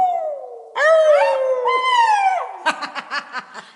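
A dog howls in long rising and falling wails for a couple of seconds, then gives a quick run of short yips and woofs, loud and close, singing along to a children's song.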